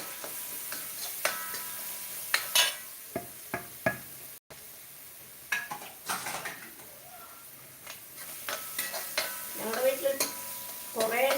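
Onion, chili and garlic frying in a pan for a Kerala fig (aththi) stir-fry, stirred with sharp utensil scrapes and knocks over a soft sizzle, close and intermittent throughout.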